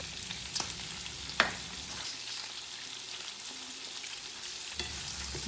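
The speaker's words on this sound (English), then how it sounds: "4 slices of bacon cut up into small pieces, frying that up with some onion and garlic" Bacon cut into small pieces, with onion and garlic, sizzles steadily in a hot pan, with a few light clicks and clatters of stirring.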